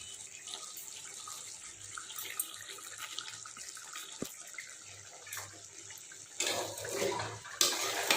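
Water poured or running from a tap during home cooking, a faint continuous splashing trickle that grows a little louder toward the end.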